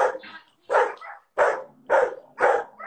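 Excited puppies bark close by in a row of five sharp, evenly spaced yips and barks over about three seconds, with nobody talking.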